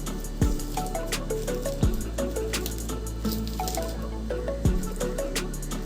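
Garlic and dried chillies being mashed by hand with salt, a close series of wet squishing presses with small sticky squelches and clicks, repeating roughly every second or so.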